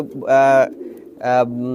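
Old-breed Khulna homing pigeons coo loudly up close, two strong drawn-out calls separated by a brief pause, a softer hum continuing after the second.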